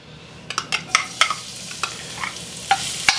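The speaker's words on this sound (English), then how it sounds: "you see how the garlic is sizzling away" Metal utensil scrapes and clinks against a hot wok in quick irregular strokes, over a soft sizzling hiss of garlic frying.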